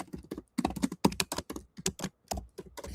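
Quick typing on a computer keyboard, a dense run of sharp key clicks in short bursts with brief pauses between them, close and fairly quiet, heard alone.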